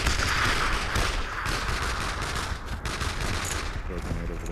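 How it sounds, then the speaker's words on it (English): Rapid machine gun fire rattles continuously in the World War II shooter game Brothers in Arms, dense and loud bursts with scattered rifle shots mixed in over a constant battlefield din. "That machine gun's opening up."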